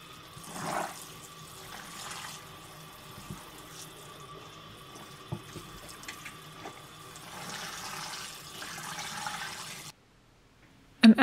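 Water running from a tap into a pot to soak a large machine-knitted wool dress, a steady rushing wash that holds for about ten seconds before cutting off, with a brief knock at the end.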